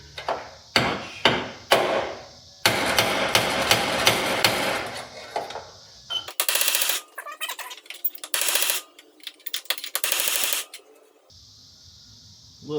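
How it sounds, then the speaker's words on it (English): Loud, sharp sledgehammer blows on a punch ring out in quick irregular strikes against a metal vent on an S13 drift car, mixed with stretches of harsher, noisier clanging. "We're going to try to bang out the back of this vent here with a sledgehammer and a punch."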